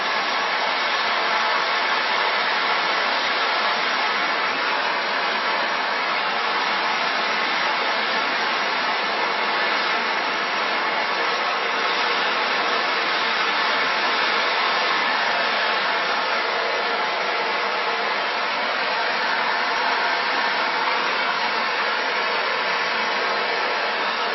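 A gas torch heats a brass fitting onto copper pipe for soldering, giving a loud, continuous, even roar that holds steady from start to finish with no talking.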